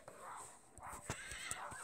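A horse neighs in the WildCraft video game, a short whinny with a few sharp hoof-like knocks, fairly quiet and close, with no talk over it.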